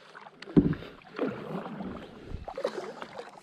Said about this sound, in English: Paddling is super easy too. I figured it'd be a little tougher, but so we are floating